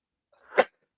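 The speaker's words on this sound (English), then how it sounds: "Sneeze number one." A single short, sharp sneeze bursts out after a brief inhale, close and fairly loud, then silence.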